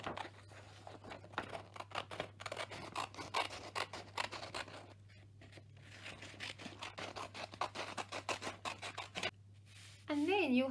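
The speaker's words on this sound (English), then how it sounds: "get an adult to help you with the scissors and we're going to cut out" Repeated crisp snipping and rustling of scissors cutting through paper, close by, in a steady run of short cuts with brief pauses.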